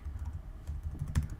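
Quiet, close typing on a computer keyboard, with a brief run of soft, irregular key taps and one slightly louder press near the end.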